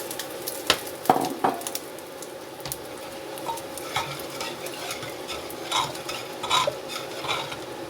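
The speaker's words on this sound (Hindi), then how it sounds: "यहाँ मैं लगाऊंगी तड़का" Hot oil sizzles and crackles as tempering spices hit the pan for chicken dal, with a few sharp pops and some stirring clatter, close and fairly quiet.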